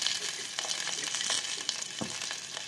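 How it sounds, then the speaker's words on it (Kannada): Green chillies, curry leaves and mint sautéing in a pan for Karnataka-style tomato bath, giving a steady close sizzle with light stirring scrapes and a brief clack near the end. "ಇವೆಲ್ಲ ಸ್ವಲ್ಪ ಬಾಡಿಸ್ಕೊಳ್ಳೋಣ."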